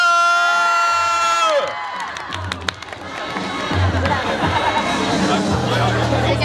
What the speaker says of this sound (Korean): 여러분 박수 소리 한번 들어보겠습니다.